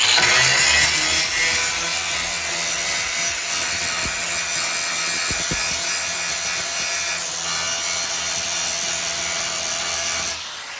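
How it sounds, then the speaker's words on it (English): A power grinder grazes lightly across rivets on a sandblasted, sealed 1960s or 1970s classic car roof panel, giving a steady loud abrasive whir with brief ticks as it passes the rivets. "Take the grinder and you graze across them real lightly."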